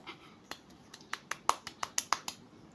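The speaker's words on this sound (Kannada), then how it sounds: "ಚಪ್ಪಾಳೆ." A run of about a dozen sharp, quick claps, faint and close, spaced unevenly at first and then settling into a steady rhythm in a quiet room.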